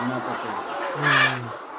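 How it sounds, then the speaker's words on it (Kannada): Cross-breed hens (75% native, 25% breed) in a farm flock of around 300 give short low clucking and cooing calls, close by, with a brighter squawk in the middle of the clip. "ಈ ಕಡೆ 300 ಕೋಳಿ."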